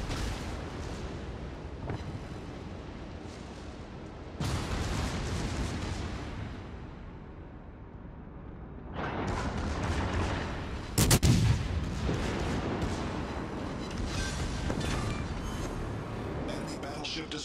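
Battleship explosions and gunfire in a naval arena video game on PS4 and Xbox make a continuous, dense roar of booming blasts and shots, with a sharp, loud detonation partway through.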